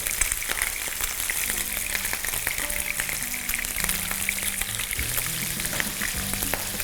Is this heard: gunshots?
no